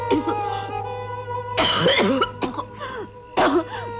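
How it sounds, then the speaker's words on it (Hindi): A woman coughs badly in a Hindi film scene, with harsh, close bursts of coughing in several fits over a steady background hum. "इतनी बुरी तरह क्यों खांस रही हो?"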